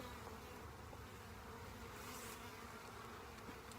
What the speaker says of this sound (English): There's a lot of bees in here though, which is a good sign.